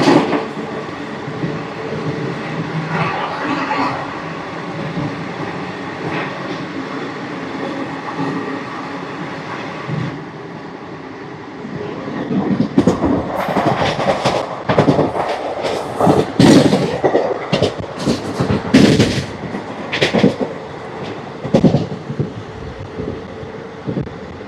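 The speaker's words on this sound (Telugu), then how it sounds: "ఏ ట్రైన్ ఇది వెళ్ళిపోతుంది." Ratnachal Express (12718) passing near Chebrolu station, a steady rumble for the first ten seconds, then louder, choppy rattling and clatter building as the train goes by close at hand.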